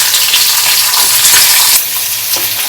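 Chopped onions frying in hot oil in a pan, a loud continuous close sizzle with stirring scrapes, easing slightly near the end, no speech.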